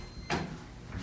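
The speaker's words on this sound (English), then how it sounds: "That's a loud door operator though" A loud door operator on a former Burlington/Dover hydraulic elevator at Montclair State University gives one strong whooshing rumble, then a second, softer surge just before the end.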